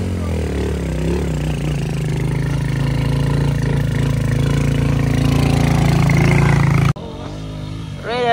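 A Suzuki Raider 150i motorcycle engine idles steadily and loudly close by, a continuous mid-pitched throb that cuts off abruptly near the end, followed by a different, thinner sound.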